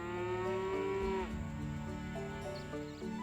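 Cattle moo from a cow in a video game, long and loud with a falling pitch, followed by a quieter moo with more texture, and no talking.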